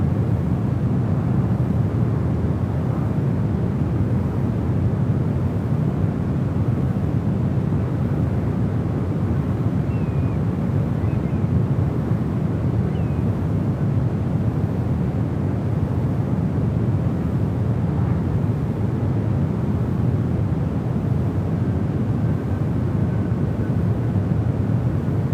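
A Delta heavy jet landing on runway 28 right at San Francisco airport in calm wind, heard as a steady broad roar of engine and air noise, fairly distant and unbroken for the full stretch.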